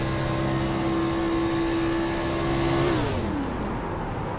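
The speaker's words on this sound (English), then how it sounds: "listen to him lift out of the gas, push in the clutch, and let the car just coast" An IROC race car engine holds a steady high drone, then the pitch drops away as the throttle lifts, the clutch goes in and the car coasts into a corner, the sound fading and lowering.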